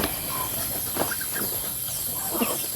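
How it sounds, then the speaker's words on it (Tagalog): Backyard chickens of several colours give a few scattered soft clucks and calls at moderate distance over a steady hiss of farmyard ambience, with no talking. "Itong klaseng manok ko, oh."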